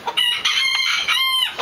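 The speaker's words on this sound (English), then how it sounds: "Feeding my chicken." A backyard flock of chickens being fed clucks busily at close range while a rooster crows through it, forming a dense, continuous barnyard chatter with no speech.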